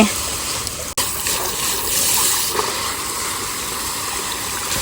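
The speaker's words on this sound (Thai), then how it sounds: "เติม น้ำให้กับต้นไม้หน่อย" Water pours steadily onto garden plants in a loud, continuous rushing gush that runs throughout, broken only by one brief sharp knock near the start.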